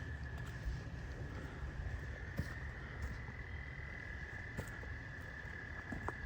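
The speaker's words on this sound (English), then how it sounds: "As you can hear a lot of the frogs going" A dense nighttime chorus of frogs croaking and trilling continuously in the woods at midnight, with a steady high insect-like tone and occasional clicks, moderately distant.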